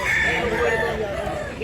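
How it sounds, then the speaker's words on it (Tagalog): Roosters and hens at an outdoor chicken market in Mantalungon, Barili, Cebu, with a rooster crowing loudly over a dense crowd of clucking birds and people talking nearby. "Bintahan ng mga manok"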